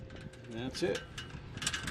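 Wind turbine unibody being tilted on its mount during assembly, giving a run of light mechanical clicks, creaks and ratcheting pivot sounds, close and moderately quiet with no talk.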